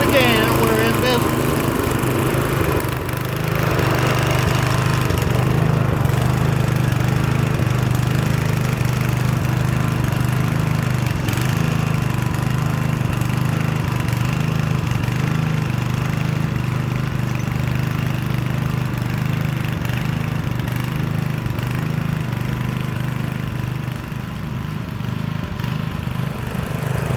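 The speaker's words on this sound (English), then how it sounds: "One pass over the garden spot with the tiller." A rototiller engine runs as it tills a garden spot, a steady loud droning rumble that persists throughout, with a voice speaking over it at times.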